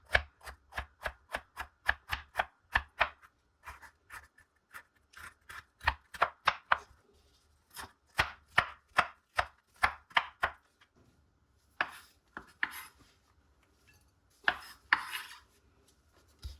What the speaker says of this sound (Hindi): और ग्रीन जो शिमला मिर्च है उसको भी हम ऐसे ही काट लेंगे